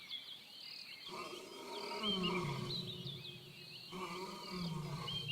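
A forest lion in the Congo lets out a deep, rumbling roar that swells and fades in two long breathy waves. It sounds close and carries over faint insect hum with no voices.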